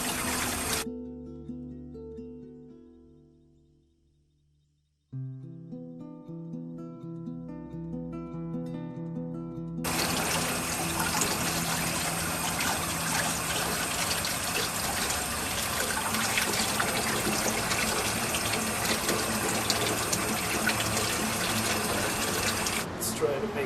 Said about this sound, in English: put it under water and just running water and just clean it all well out